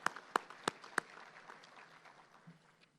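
A luncheon audience at a Chamber of Commerce gathering gives a handful of sharp, separate claps that quickly thin out into faint, scattered patter.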